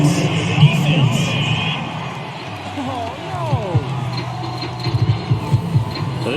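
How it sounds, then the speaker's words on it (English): A home stadium crowd roars and cheers a referee's call, a steady dense wall of crowd noise with someone talking over it throughout. "This home crowd, they're happy with that call."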